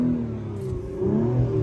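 A 2021 Acura TLX Type S engine heard from inside the cabin with its sound piped in, a steady mid-pitched growl and whir that rises slightly as it revs, loud and close with no talking.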